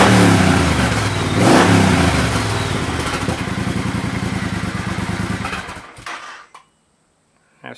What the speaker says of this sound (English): So if we start the bike now, see, all these things are going to change.